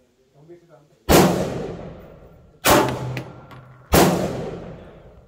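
Three loud, sharp pistol shots from a Canik handgun at a shooting practice range, spaced about a second and a half apart, each with a long echoing decay, after faint talk at the start.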